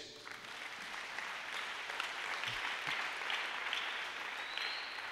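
A church congregation applauding, a dense sustained clapping of many hands from a large group, fairly distant and even in loudness throughout.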